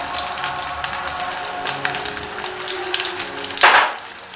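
Banana shami kababs frying in about a tablespoon of oil, a steady close crackling sizzle that flares briefly louder near the end, then drops away.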